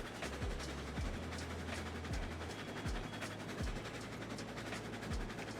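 Train running in the game Railroads Online, a low steady rumble with a repeating rhythmic clack and faint engine drone, moderately quiet and continuous.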